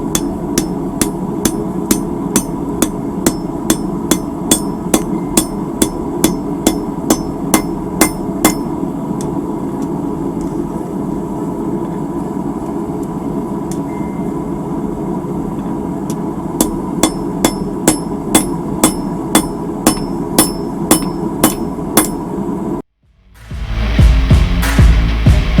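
A blacksmith hammers a heated horseshoe straight on an anvil while forging, sharp ringing blows landing in steady rhythmic runs with a long pause midway, close and loud, ending in a sudden burst of louder noise.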